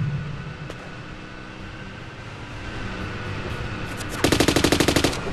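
Rapid automatic gunfire from the video game Raider Six bursts out near the end as a loud, evenly spaced string of shots, following several seconds of steady game ambience and engine-like hum.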